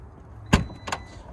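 A 2021 Volvo V60 power tailgate triggered by the kick sensor under the rear bumper gives two short close clunks about 0.4 seconds apart, with a faint low hum between them and no one talking.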